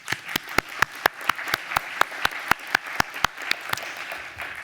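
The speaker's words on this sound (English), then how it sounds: "I think we should give an applause to all the panelists." A conference audience applauds the panelists at the end of an interoperability session, with crisp, fairly sparse claps landing in a steady run and no talk over them.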